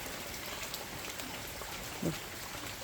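Steady, faint rain hisses continuously with no distinct drops, and a brief low murmur cuts in partway through.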